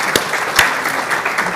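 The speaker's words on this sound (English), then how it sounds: "So please join me in another round of applause for Ray and Amy and Paul and Jennifer." Audience applause for panelists closing a morning session of a rights and justice conference, a brief, fairly loud patter of many hands clapping at an even level.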